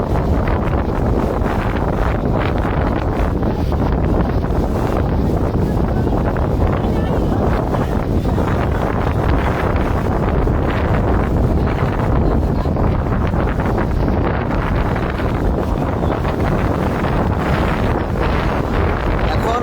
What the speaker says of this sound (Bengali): বাতাস আগে যে গতি ছিল তার চেয়ে গতি একটু বেশি